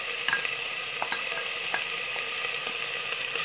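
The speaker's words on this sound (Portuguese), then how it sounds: "Vou deixar ele dando uma fritada com a cebola." Garlic sizzles and fries in olive oil alongside chopped onion in a pan, a steady close crackling hiss with occasional stirring clicks and no talking.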